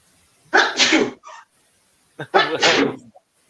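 Two loud, close sneezes, each with a short sharp intake and burst, separated by a brief pause.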